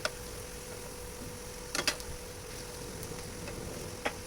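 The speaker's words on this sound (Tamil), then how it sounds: "இதை மாற்றி மாற்றி நம்ம திருப்பி போட்டு திருப்பி போட்டு இதை கொஞ்சம் நல்லா நம்ம ஃப்ரை பண்ணிக்கலாம்" Small sweet snacks made from flour and semolina fry in hot oil, a low steady sizzle with a few sharp clicks and scrapes as they are flipped, quiet and close.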